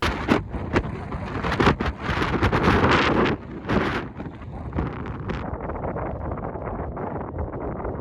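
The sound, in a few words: strong wind while cycling across the United States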